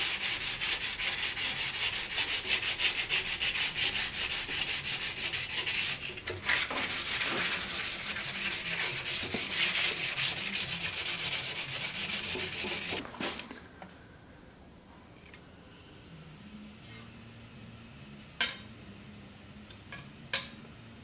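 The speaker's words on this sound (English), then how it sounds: "I will use some sandpaper of grit 80." Steady scratchy rubbing of 80-grit sandpaper worked by hand along a pattern-welded steel sword blade, loud and continuous for about thirteen seconds, then stopping, leaving quiet room tone with a couple of faint knocks.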